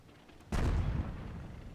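A single loud boom of artillery fire in World of Tanks, a sudden heavy blast with a long rumbling low-end tail that slowly decays after a quiet lead-in.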